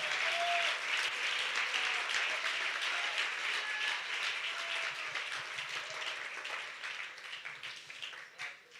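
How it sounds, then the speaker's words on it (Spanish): Church congregation applauding during a women's national camp sermon, a dense steady wash of many hands clapping that stays loud throughout and thins slightly toward the end. "Alguien aplauda al Señor de la gloria."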